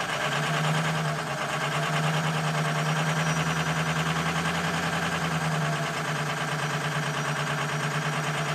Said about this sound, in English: here's a starting video of it for you guys.